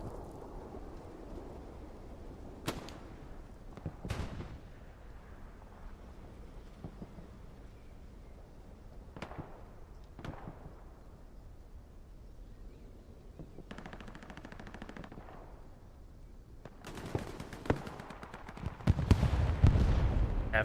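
Artillery and gunfire in the tactical shooter game Hell Let Loose: scattered sharp blasts and bursts crack over a steady rumbling battlefield backdrop, with a heavy, loud cluster of explosions near the end.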